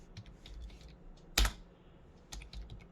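Typing on a computer keyboard, a sparse run of quiet, close key clicks with one louder sharp keystroke near the middle and a few more soft taps toward the end.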